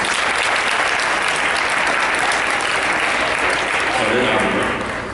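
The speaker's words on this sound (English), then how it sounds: "Let's give them a round of applause." Loud, sustained applause from a crowd at a middle school championship trophy ceremony, with dense clapping throughout that swells slightly near the end before easing off.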